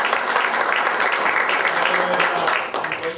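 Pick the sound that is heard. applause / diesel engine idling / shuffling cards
applause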